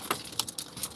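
Car keys jangle and clink in quick, bright rattles over about a second, close by and fairly soft, with no talking.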